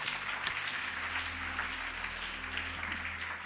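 Church congregation applauding and cheering during a sermon, a steady wash of clapping at moderate distance over a low background hum.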